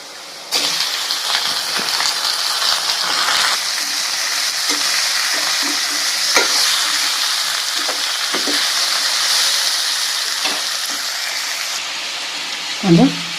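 Half a kilo of chicken for Tamil chicken uppu kari sizzling loudly in a hot pan, with occasional scrapes and clinks of stirring over a steady frying hiss.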